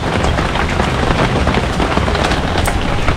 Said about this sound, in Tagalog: Ayan, nagsimula naman yung ulan.